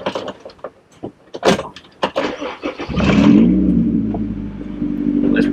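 A race car engine cranks and catches after a few clunks and knocks, then settles into a loud, steady rumbling idle close by, indoors.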